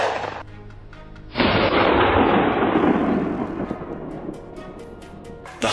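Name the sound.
gunshots during a wild pig hunt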